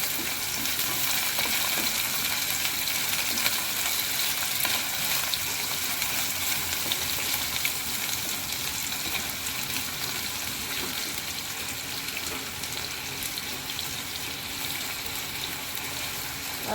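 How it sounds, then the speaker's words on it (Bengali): Cut potatoes frying in oil in a pan for a kalmi (water spinach) dish, giving a steady, continuous soft sizzle and hiss close by with no talking. "আলুটা একটু ভাজা হবে।"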